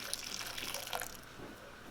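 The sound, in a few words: pouring hot water onto a bouillon cube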